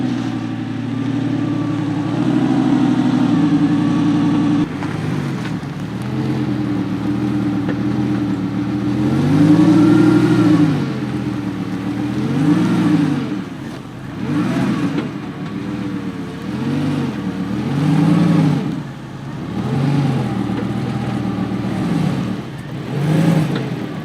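Lamborghini Gallardo engine droning and rising and falling as the car creeps through a slow, tight U-turn, loud and close with repeated revs.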